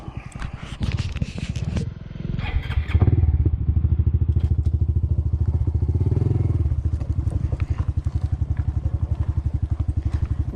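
Honda CT 125 motorcycle engine chugging at low revs while rolling slowly downhill, a steady loud rhythmic putter with some clatter and thumps early on, no talking.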